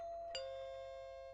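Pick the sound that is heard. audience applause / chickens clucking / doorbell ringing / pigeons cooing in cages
doorbell ringing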